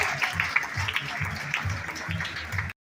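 An audience at a cruise ship show applauds, a dense wash of clapping from a crowd with low thumping music or movement underneath, steady until it cuts off abruptly.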